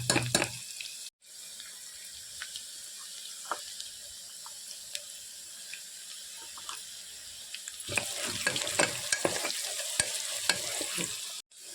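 A potato and tomato curry is stirred in a frying pan over a constant close sizzle, with scattered scraping clicks. The frying grows louder and busier in the last few seconds.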